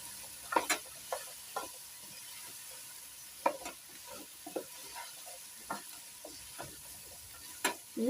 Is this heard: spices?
yes